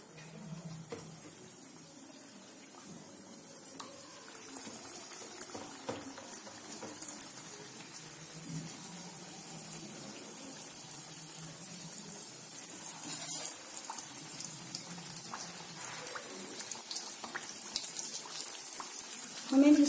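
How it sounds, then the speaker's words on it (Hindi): Rice hisse (anarsa) fry in hot oil, a soft steady sizzle and crackle of small bubbles running low and even throughout, with faint kitchen clatter and a brief louder burst at the very end. "गरम हो गया है, मैं जो मैंने हिस्से बनाए थे उनको मैं फ्राई करूंगी।"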